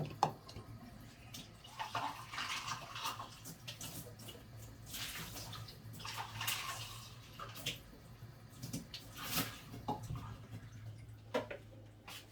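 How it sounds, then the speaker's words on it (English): Hand-dyed roving being rinsed under running water, a steady splashing and trickling with bursts of heavier pouring, close by and fairly quiet, with no talking. "I'm going to wash this out now"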